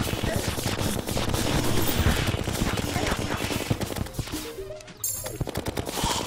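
A gun in the video game Terraria fires bullets in a rapid, dense stream of shots, loud and nearly continuous, briefly thinning before the volley picks up again.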